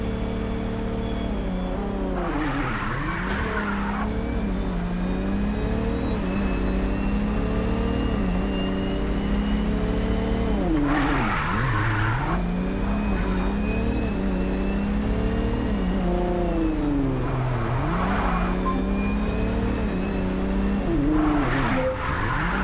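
Car engine revving and tires skidding in the video game Mindseye, a loud continuous engine drone with rising and falling pitch and repeated squealing skids.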